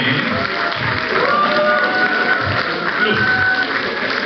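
Steady applause from a church congregation at an all-church retreat worship service, a dense wash of clapping that runs throughout with voices mixed in.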